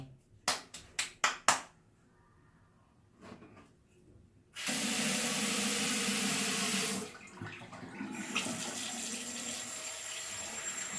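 Tap water runs for washing, first in a few short splashes, then as a loud, steady gush that stops briefly and resumes at a slightly lower, continuous level.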